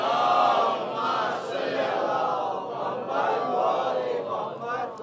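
A large congregation at a Muharram majlis loudly chanting salawat in unison, a dense sustained mass of voices with rising and falling swells throughout.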